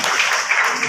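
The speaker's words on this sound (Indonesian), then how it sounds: "tepuk tangan untuk Pak Kadis kita" Audience applause for the department head at a training scholarship event, a dense steady wash of clapping filling the short moment at even loudness.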